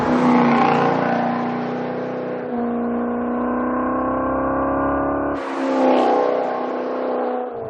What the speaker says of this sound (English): You slide it in manual mode, and the exhaust opens up, and you just get a deeper, rich tone